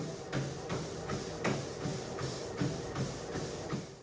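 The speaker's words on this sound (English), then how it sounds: "you'll notice that the machine has a powerful but pretty quiet motor" An XGEEMAX incline walking pad treadmill runs at maximum speed, its motor giving a steady low hum under a regular rhythmic thump and shuffle of the moving belt, repeating roughly every second and moderately loud.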